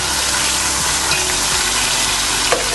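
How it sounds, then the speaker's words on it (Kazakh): Chopped onions and tomatoes fry in a pan with a steady, close, loud sizzle and a few stirring scrapes, with no voices. "осындай томат, пиязымызды, помидорымызды, томатымызды жақсылап қуырып аламыз"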